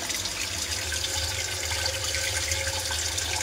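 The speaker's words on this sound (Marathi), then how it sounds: "तेवढी मोठी धार लागली आहे बघा पाण्याची" Water gushing in a strong, continuous stream inside a flooding house, a steady broadband rush like a tap running full that holds at one level throughout with no voices.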